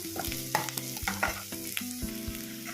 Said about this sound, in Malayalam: ഉള്ളിയൊക്കെ അപ്പോൾ അവിടെ ഫ്രൈ ആയിട്ട് വന്നിട്ടുണ്ട് കേട്ടോ.